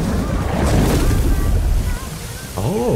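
Tsunami water move in Jujutsu Infinite: a loud rushing, surging wash of water with windy roar, sweeping through the clip and dipping briefly near the end.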